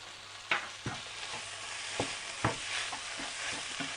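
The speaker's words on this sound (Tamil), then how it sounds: "ட்ரையாகவே நம்ம ஃப்ரை பண்ணிக்கலாம்." Samosa vegetable stuffing with green chilies and salt dry-fries in a pan without oil. A quiet, even sizzle runs throughout, broken by spoon scrapes and taps at irregular intervals.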